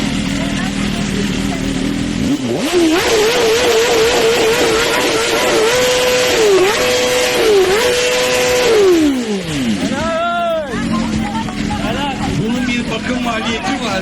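A BMW M1000RR motorcycle with new headers and an Akrapovic exhaust idles, then revs hard in sustained high-pitched blips that rise and fall before dropping back to a rough idle, loud and close with people talking nearby.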